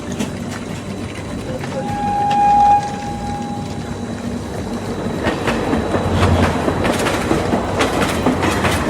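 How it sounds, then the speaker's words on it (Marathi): The Konkan Kanya superfast express on the Mumbai–Goa line, heard from on board as a loud, continuous rumble with steady clickety-clack of wheels on rail joints and a brief tonal whine, under some background voices. "मडगांव कोंकण कन्या सुपरफास्ट एक्सप्रेस कुछ ही समय में प्लेटफॉर्म क्रमांक 1 से चलने को तैयार है"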